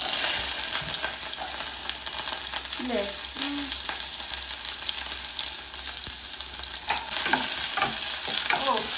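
Shallots fry in hot oil with mustard seeds, a steady crackling sizzle heard close up. Scraping stirs break through now and then, and a voice briefly speaks over it.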